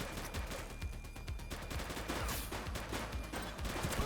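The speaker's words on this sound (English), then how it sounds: "Shots fired!" In the police game The Precinct, a dense exchange of gunfire rattles on without pause, many overlapping shots at low loudness, with no speech.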